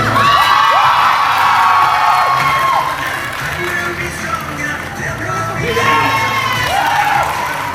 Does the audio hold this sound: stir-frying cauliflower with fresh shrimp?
no